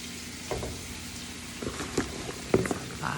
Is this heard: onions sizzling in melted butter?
yes